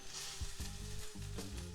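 Thick-cut bacon strips sizzle in a pan with a soft, steady crackle, punctuated by a few low thumps and shifts as the strips are moved, quiet and close, with no voices.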